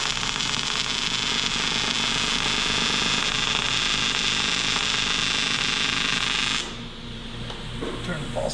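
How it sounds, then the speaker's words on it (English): An aluminum TIG weld with pulse mode on produces a dense, buzzing hiss with a rapid pulsing texture, steady and loud for several seconds before cutting off into quieter room noise. "Turn the pulse off, that sounds weird."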